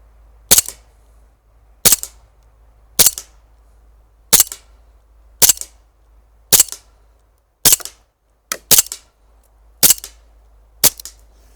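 Eleven sharp pops from a Sig Sauer 1911 We The People CO2 4.5mm air pistol fired at a paper target, one at a time at roughly one-second intervals, with a quick double shot near the end; nothing else audible.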